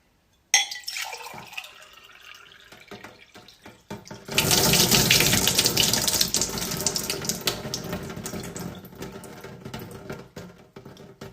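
Water runs into a glass, starting with a thin trickle and then swelling into a steady, fairly loud pour that tails off slightly near the end. Nobody speaks.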